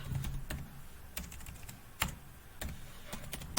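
Quiet, close clicking of a computer keyboard, with irregular bursts of keystrokes and a few sharper taps spread over a few seconds and no voice.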